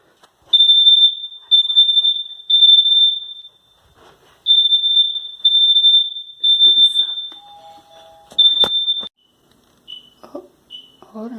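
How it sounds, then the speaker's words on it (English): A building fire alarm under test sounds a loud, piercing electronic tone in repeated long bursts with short gaps, followed by a few brief chirps and faint scattered noise near the end. "That's just our alarm."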